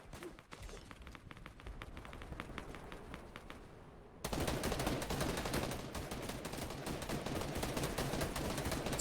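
Gunfire in a Fortnite trios match: sparse single shots over a low rumble, then a dense, loud stretch of rapid overlapping shots and impacts that continues to the end.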